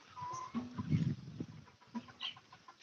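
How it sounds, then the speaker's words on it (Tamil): Native Peruvidai roosters on a country chicken farm give soft, scattered clucks and short calls, quiet and at a little distance, with faint bird chirps above. "இது எல்லாமே வந்து சேவல்கள் தான் இது பெருவிடை"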